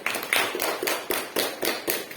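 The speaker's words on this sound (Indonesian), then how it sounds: "beri tepuk tangan dulu untuk kelompok" A classroom group receives a round of applause from fellow teachers in training: dense, steady hand clapping filling the whole stretch with rhythmic bursts, fairly close and alone without speech.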